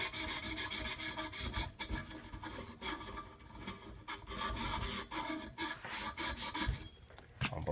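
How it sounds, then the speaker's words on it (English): Sandpaper rasps steadily against a copper pipe end, a continuous, close and fairly loud scratching rub with brief pauses between strokes. "you want to sand that down real good. You don't want any of that. You want shiny copper."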